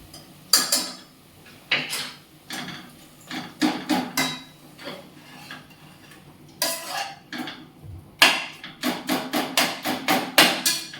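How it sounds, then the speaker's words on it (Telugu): Tomatoes with masala being smashed and stirred in a metal pan for a vegetable biryani base, a run of loud, close, irregular metallic knocks and scrapes, with a dense rapid burst near the end and no talking. "టమాటా వేసినాక ఇలా స్మాష్ చేసామనుకోండి"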